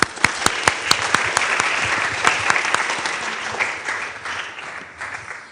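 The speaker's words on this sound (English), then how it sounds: "One applause for you." Audience applause at a university workshop event, a room of people clapping together with dense, steady clatter that starts strongly and gradually thins out toward the end.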